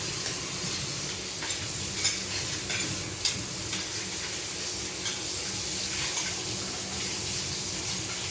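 Dishes and plates being washed under a running kitchen tap, with a steady broadband rush of water and occasional soft clinks and knocks, fairly close and continuous with no talk.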